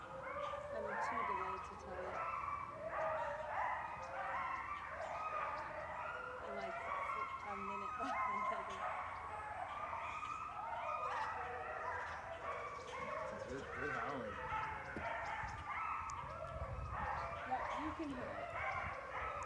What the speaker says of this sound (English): our wolves are howling at the moment